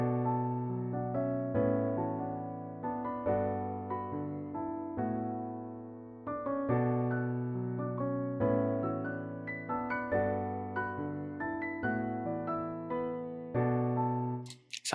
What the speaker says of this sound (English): first I started by playing this piano pattern right here.